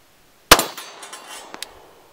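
A gunshot hits a steel hostage target: one sharp, loud impact crack, then a ringing metallic decay and a few smaller clanks and rattles, with no talking.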